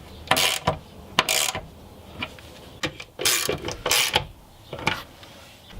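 A ratchet clicks in short bursts while bolts are tightened back into the interior of a BMW E46 M3, close by, with irregular pauses and small mechanical knocks between the bursts.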